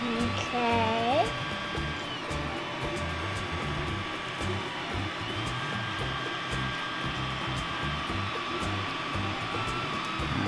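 A 3D printer printing a Pokemon squirrel toy gives off a steady fan whir with faint stepper-motor tones, close and continuous, with a brief voice near the start.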